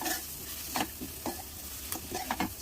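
Spiny gourd curry with coriander being stirred in a pan, a spatula scraping in a handful of quick strokes over a soft sizzle, close but quiet, no talk.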